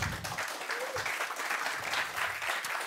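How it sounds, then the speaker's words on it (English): An audience at the OHM hacker camp applauds a speaker coming up for a talk, with steady sustained clapping from a crowd heard at moderate distance. "Give him a warm applause,"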